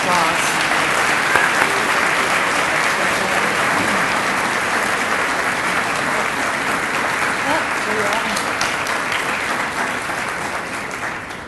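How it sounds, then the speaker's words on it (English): At a college student recognition award ceremony, a crowd gives loud, steady applause that holds throughout and tapers slightly at the end. "Give him a round of applause."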